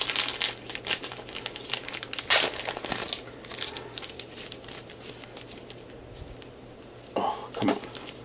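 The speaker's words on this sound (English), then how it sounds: "I'm gonna take the shit out of the plastic too." Plastic wrapping crinkles and crackles in bursts as it is peeled off a comic book, close and fairly quiet, with a man murmuring between the rustles.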